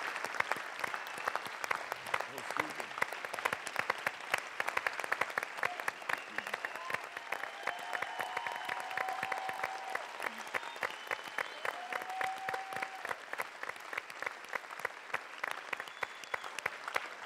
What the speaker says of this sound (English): stand up and let's give these people a big applause.